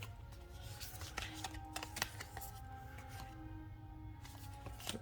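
Tarot cards being shuffled by hand, a series of quick crisp riffling snaps and soft slides in irregular bursts, close and fairly quiet, with no talk.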